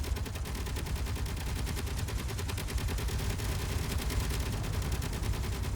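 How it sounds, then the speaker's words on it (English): Rapid automatic gunfire from base defense turrets shooting down incoming high-explosive bombs in the space game Space Engineers, a dense continuous stream of shots at moderate volume without pause. "Our turrets are detecting high explosive devices and intercepting them"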